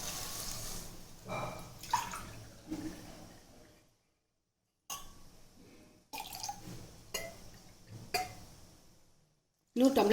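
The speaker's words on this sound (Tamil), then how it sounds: "இதுக்கு 1 டம்ளர் தண்ணி விட்டுக்கலாம்." Water poured from a tumbler into a cooking pot holding rinsed moong dal for a ridge gourd kootu, heard as soft splashing pours and drips separated by short pauses, quiet and close.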